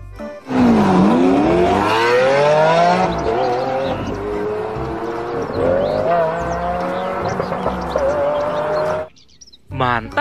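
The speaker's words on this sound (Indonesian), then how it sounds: "Di sini ada mobil balap." A toy race car's electronic sound effect plays loud and close: rising engine revs and squealing tire sweeps run for about nine seconds, cut off abruptly, then briefly start again.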